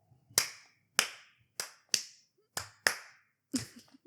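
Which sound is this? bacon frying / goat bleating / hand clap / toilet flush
hand clap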